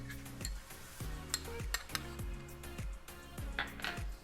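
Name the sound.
spoon spreading pizza sauce to the edges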